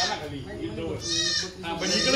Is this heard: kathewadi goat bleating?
yes